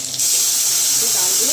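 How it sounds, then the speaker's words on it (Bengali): Soaked dal tipped into a hot pan of spiced oil for a dal and egg curry, bursting into a loud, steady broadband hiss and sizzle that fills the short moment without letting up. "এবারে আমি দিয়ে দিচ্ছি ডাল"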